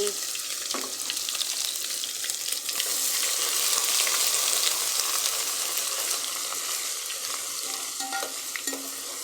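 Ginger and garlic sizzle in a pan for a fish curry, a dense, even hiss that holds steady throughout, with faint scrapes of stirring and small clinks nearby.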